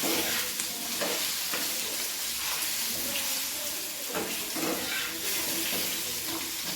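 Continuous crackling sizzle of potatoes frying in oil with a little turmeric in a pan, broken by repeated stirring and scraping sounds throughout.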